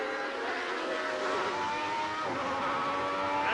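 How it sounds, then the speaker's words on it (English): Gerhard Berger's Grand Prix racing car screams at high speed from an onboard camera, a loud sustained engine whine rising in pitch as it climbs through the gears out of a corner. "Gerhard Berger with the camera mounted on his car, out of turn 7, climbing at about 130 miles an hour"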